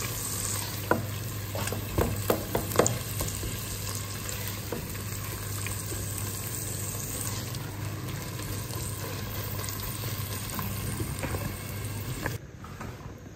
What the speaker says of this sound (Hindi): टमाटरों को भी मैं 5 से 7 मिनट के लिए अच्छी तरह भून लूँगी।